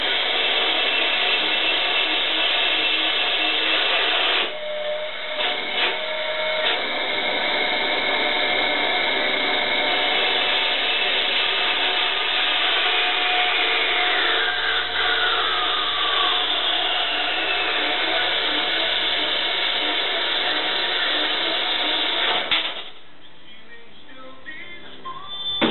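A powered pruner cuts a piece of metal off square with a loud, sustained motor whine and grinding for about twenty seconds, then drops off abruptly into quieter handling noise.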